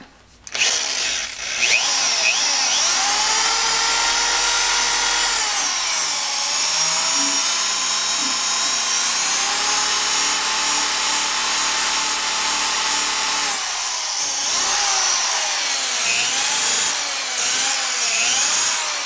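A polishing ball spinning on steel parts makes a loud, steady motorized whir with a rubbing, grinding edge, running almost unbroken for the whole stretch with a brief dip and change in pitch partway through.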